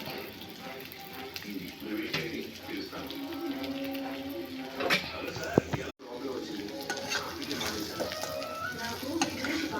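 Chicken with black pepper powder fries hard in a pan, giving a steady close sizzle with metal utensil clinks and scraping stirs, and a brief dropout midway.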